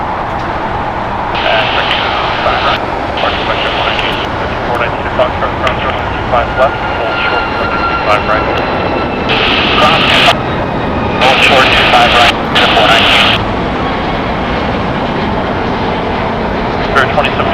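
Jet airliner engines roaring steadily on takeoff from runway 25 right at LAX, a loud continuous rumble with bursts of air traffic control radio talk over it.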